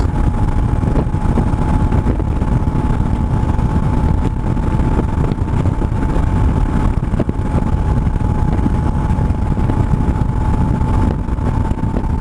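A BMW R1150GS motorcycle pulls steadily in fourth gear on a coastal highway at about 75 to 80 mph, its engine drone loud and continuous under heavy wind rush, with no gaps for the full stretch.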